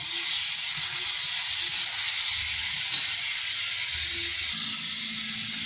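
Ridge gourd fries in a pan with turmeric stirred in, giving a steady close hiss of sizzling oil and faint scraping stirs, without talking.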